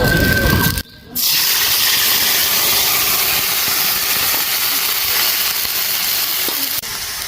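Onion, garlic, cumin and ginger pastes hit hot oil for a magur fish curry, letting out a loud, dense, continuous hiss and sizzle that breaks off briefly near the start.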